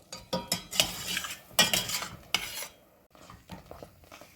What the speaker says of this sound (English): Continue to stir at this point so you do not burn